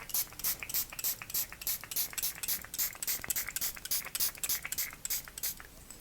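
A spray bottle refilled with plain water mists onto a face in a quick run of short, close hissing bursts, roughly a dozen sharp sprays spread across the moment with brief gaps between them.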